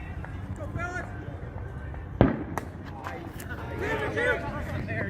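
One sharp firework bang cracks out at a baseball game, with crowd chatter and voices going on around it before and after.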